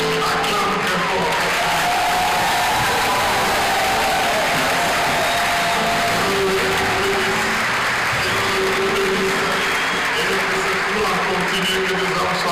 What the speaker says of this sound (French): Acclame très fort.